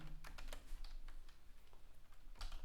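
Keys clatter on a computer keyboard in quick, uneven bursts of clicks, fairly close and moderately quiet, with no talking over them.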